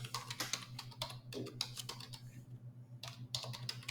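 Computer keyboard typing in quick irregular bursts of close, crisp key clicks, with a short pause midway and a low steady hum underneath.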